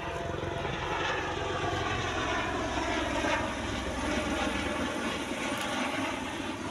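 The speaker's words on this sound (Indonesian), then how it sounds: "Mohon maaf ada gangguan pesawat." A propeller airplane passes overhead, a steady droning engine rumble with a broad hiss that holds fairly even and moderately loud for several seconds, with no voices.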